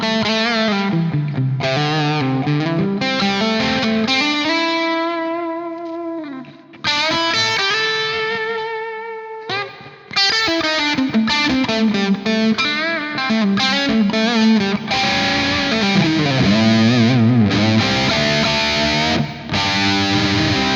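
A distorted electric guitar through an amp's ambience reverb effect rings out with a big, spacious reverb tail, notes sustaining and washing into each other.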